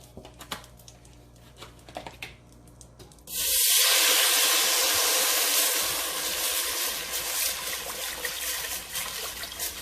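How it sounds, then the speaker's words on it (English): A whole 32-ounce carton of chicken broth is poured into a cooking pot for gumbo, a sudden loud steady splash and gush that begins after light clicking and keeps running for several seconds. "we're going to pour in this whole 32 ounce of chicken broth."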